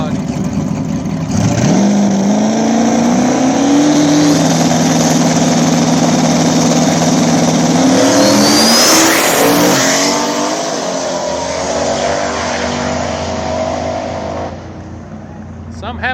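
Drag race between a turbocharged Fox body Mustang and an MR2 on a small tire track, engines roaring loud and close as they launch and pull hard, pitch climbing through gears before fading, with a voice talking over the noise.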